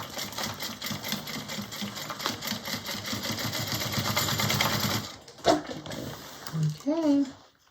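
A sewing machine rapidly stitches through a thick part of a bowler bag, a close continuous mechanical whir for about five seconds that then stops, followed by a brief voice.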